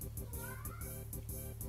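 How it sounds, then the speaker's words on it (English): A cat meows repeatedly in short, rhythmic cries, fairly close and clear, with no talking over it. "See, even the cat agrees with me."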